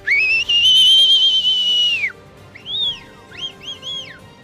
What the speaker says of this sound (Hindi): अचानक बर्फ की नदी बहती देख लोग भी सतर्क हो एक दूसरे को सीटी बजाकर सचेत करते नजर आ रहे हैं।